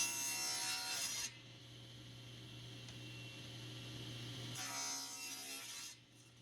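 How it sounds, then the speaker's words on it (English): A SawStop cabinet table saw rips a piece of wood: two bursts of harsh, rasping cutting noise, at the start and again near the end, over the saw's steady motor hum that continues between them. "Now I need to rip the piece into two smaller pieces."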